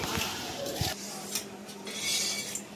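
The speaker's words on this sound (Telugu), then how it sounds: "ఇలాగా వేసిన తర్వాత ఒక్కసారి కలుపుదామండి" Rice tipped into a pot of boiling water for a large batch of pulao and stirred, with close scraping and clinking of a utensil against the metal pot over a steady bubbling hiss.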